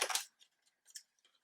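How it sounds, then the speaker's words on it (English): A long scissor blade slices through paper with a loud opening crunch, followed by a few softer snips and rustles. "And then I got my giant scissors."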